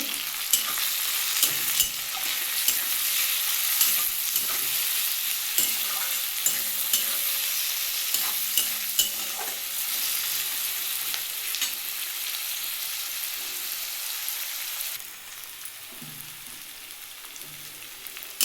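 Onion frying in oil with turmeric and salt, a steady loud sizzle with scattered stirring clicks and scrapes throughout, easing slightly quieter near the end, with no voices.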